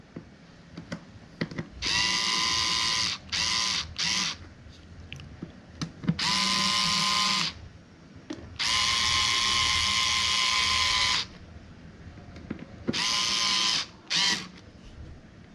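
Screws are fastened into the plastic air filter box of an Interceptor GT 650 motorcycle with a power driver, in about five loud whirring bursts of one to three seconds each, separated by quiet pauses and small clicks.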